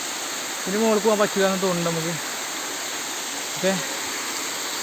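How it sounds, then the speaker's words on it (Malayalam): A waterfall roars in a steady, broad rushing wash throughout, with several voices talking briefly over it near the start and once more toward the end. "കണ്ടോ നല്ല വെള്ളച്ചാട്ടം"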